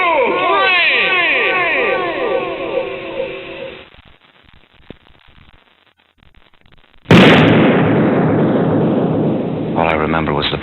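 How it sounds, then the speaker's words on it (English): A single sudden, loud pistol shot in a dramatized duel between Burr and Hamilton. It bursts out after a near-silent pause and rings into a sustained roar, with voices and music beforehand. "All I remember was the flash of the muzzle of Burr's pistol."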